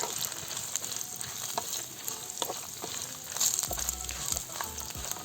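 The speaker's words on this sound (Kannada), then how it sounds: "ಕರಿಬೇವಿನ ಸೊಪ್ಪು ಒಂದು ಕಡ್ಡಿ, ಎಲ್ಲ ಚೆನ್ನಾಗಿ ಫ್ರೈ ಆಗಬೇಕು." Curry leaves and spices sizzle in hot oil for a coconut sambar, a soft, steady frying hiss broken by light stirring scrapes and a few low thuds.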